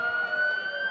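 Police and fire truck sirens at a town day parade, one steady high wailing tone with a smooth pitch held throughout, clear and sustained for about a second.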